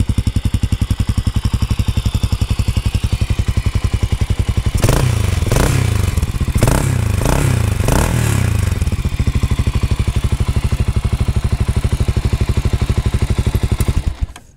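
A Cafe 400 motorcycle engine idles with a close, loud, even putter, then throttle blips give a few sharp revs in the middle before it settles back to idle.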